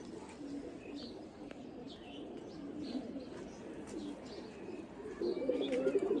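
Pigeons kept by a breeder coo softly and steadily, a low continuous murmur of overlapping calls with a few faint chirps, growing a little louder near the end.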